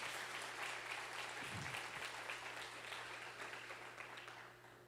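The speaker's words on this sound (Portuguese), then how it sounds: "Aplaude Ele, aplaude em nome de Jesus" A church congregation applauds during a sermon, steady distant clapping from many people beneath a low hum, fairly faint and tapering slightly by the end.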